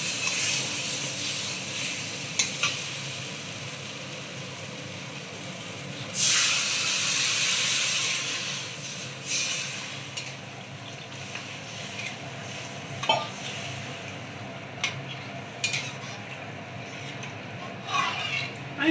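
Water poured into hot fried masala in a pan for a pomfret, potato and brinjal curry sets off a loud hissing burst of steam that settles into a bubbling sizzle with occasional clicks of a utensil.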